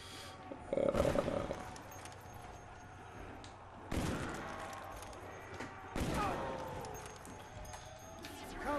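Three heavy gunshots in a Lighthouse challenge video game, each a sharp loud crack with a ringing tail, spaced a few seconds apart over a low background hum.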